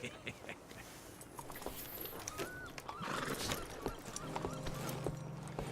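A horse in Red Dead Redemption 2 whinnies and clops its hooves, set against faint outdoor game ambience with distant birds. Some quiet speech is mixed in.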